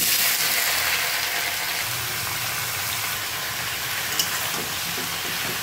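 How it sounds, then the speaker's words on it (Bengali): Chicken stew with assorted chopped vegetables and spices frying in a pan, a steady close hiss and sizzle that holds throughout with no talking. "ভালো করে এখন এটাকে ভেজে কষিয়ে তারপর জল দেবো"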